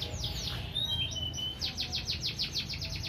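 Canaries at a bird market in Pasar Induk Depok, Solo, sing in bright chirps, a long warbled note and a fast run of repeated trills, close by over a low crowd murmur.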